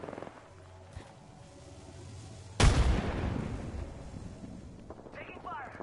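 A sudden burst of Apex Legends gunfire strikes midway, loud and dense, trailing into a rough sustained rumble, over a low steady game backdrop.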